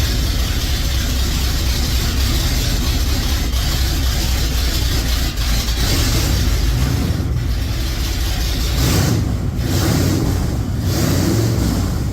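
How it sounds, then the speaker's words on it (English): Ford truck with a 351M/400 V8 idling on newly installed headers, a steady loud low rumble that holds for about twelve seconds with slight rises and dips, no talking. "Just fired up the truck. I let it sit in idle for 10 minutes"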